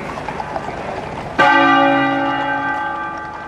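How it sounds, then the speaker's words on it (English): A single heavy stroke of the Sebastopol bell tolls at a state funeral procession for the Queen, a sudden loud strike followed by a long, ringing hum that slowly fades. "the Sebastopol bell tolled"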